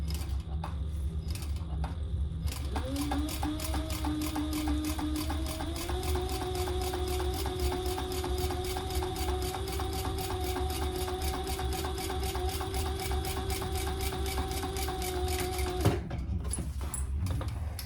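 A sewing machine stitches a mini backpack in a steady, rapid run of close, even clicks with a droning motor hum, starting and stopping cleanly, with no talking.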